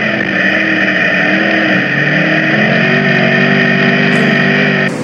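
Race cars roar around the Utica Rome Speedway dirt oval during the Victoria 200, a loud sustained engine drone that rises in pitch as the pack accelerates past, with no talk.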